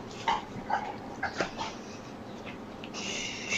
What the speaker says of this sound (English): and managing this large dog.